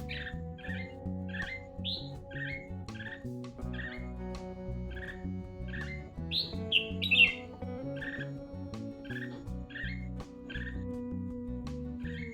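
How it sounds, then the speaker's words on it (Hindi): Morning birds chirping after rain in a village, short bright calls repeating in a steady rhythm over a sustained low musical drone, clear and fairly close with no talking. "सुबह सुबह चिड़ियों का आवाज़ बहुत अच्छा लगता है।"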